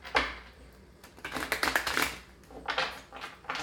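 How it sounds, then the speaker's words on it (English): Tarot cards riffle and slap together in several quick shuffling bursts, close and crisp, with no talking. "To do one more shuffle."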